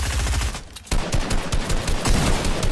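Loud, rapid gunfire rattles through a Fortnite match, with dense bursts that briefly drop out before resuming in heavy, continuous volleys.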